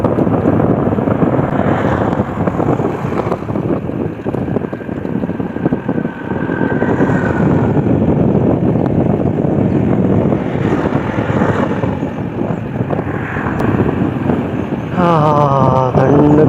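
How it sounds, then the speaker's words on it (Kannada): Cool wind rushes and buffets steadily on the hill road up Chamundi Hill, a loud, continuous roar with no speech. "ತಣ್ಣ ಗಾಳಿ ಹೊಡೆಯೋದಕ್ಕೂ"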